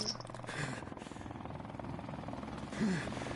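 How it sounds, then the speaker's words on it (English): A helicopter in Call of Duty Modern Warfare Remastered makes a steady rotor drone through a busy multiplayer match, mixed with gunfire and game effects, while players talk over it. "The chopper."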